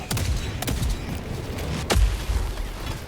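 An autocannon sentry turret in the video game Helldivers 2 fires a few sharp, heavy shots at irregular intervals, the last the loudest, over a low rumbling background.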